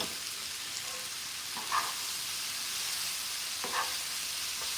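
Potatoes sauté in a big pan for vegetarian tacos, giving a steady, even sizzle and hiss throughout, with a couple of faint clinks of a utensil against the pan and no talking.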